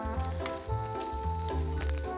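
Chicken pieces sizzle in a hot frying pan that just held bacon, a steady close crackle of frying with faint music running underneath, no voices.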